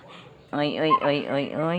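A moody dog gives whimpering, yelping vocal calls after half a second of near quiet, several close, drawn-out whines and barks in a row.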